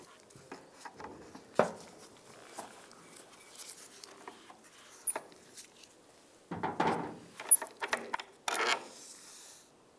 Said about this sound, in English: So on the front side we'll use a Phillips screwdriver. We can loosen that up.